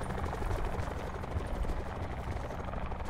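A helicopter in Call of Duty Blackout drones with a steady rotor thrum, a continuous dense whir held at even loudness throughout.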